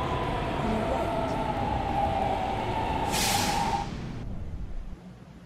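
A New York City subway E train runs between Herald Square and 67th Street, rumbling steadily with a sustained tonal whine, then a burst of hiss like released brakes before the noise drops off.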